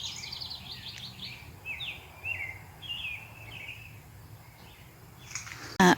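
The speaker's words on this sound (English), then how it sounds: "I love hearing the birds sing in the morning" Birds sing on a mild morning outdoors in a garden, a few faint high chirps and short warbled phrases spaced through a quiet, breezy background, ending in a brief loud rustle.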